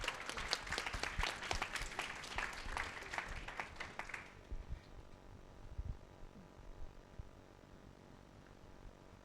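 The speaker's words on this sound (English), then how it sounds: "So would you please give Jess a huge round of applause?" A conference audience applauds a speaker, dense clapping for about four seconds that stops abruptly, leaving a low room hum with faint shuffling.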